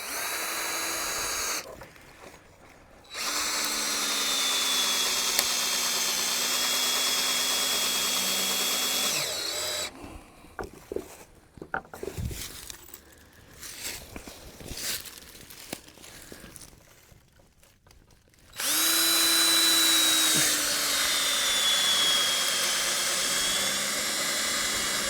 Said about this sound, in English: We're gonna drive a couple screws in here just to kind of help hold it together.